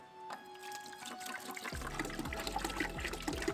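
Distilled water, 1.5 gallons, pours into a degreasing tank for an SP degreaser mix used to clean bolts, starting as a steady, close splashing stream after a quiet start and continuing with a rippling trickle.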